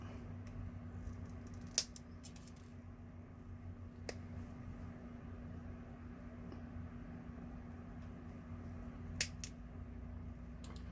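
Wire cutters trim jewellery wire for wire-wrapped pumpkin earrings, giving a few faint, sharp snips spaced several seconds apart over a steady low room hum.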